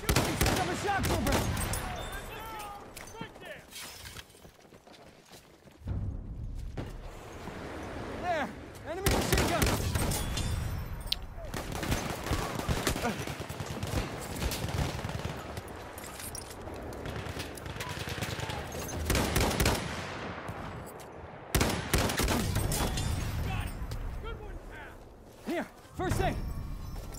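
Machine gun fire in a video game, sustained rattling bursts that come and go in several loud waves over a busy battle soundscape, with a voice talking at times.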